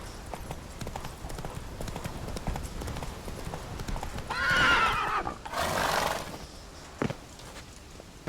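Geralt's horse Roach in The Witcher 3 game, hooves clip-clopping at a gallop, then two loud neighs in quick succession over the steady hoofbeats.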